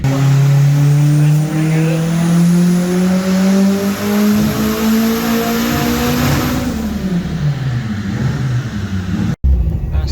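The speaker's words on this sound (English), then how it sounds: "David is now driving the GSX." A modified Nissan S14 fitted with a 2JZ engine roars past close and loud, its exhaust note climbing steadily under hard acceleration before easing off and fading, with tire noise and a brief cut near the end.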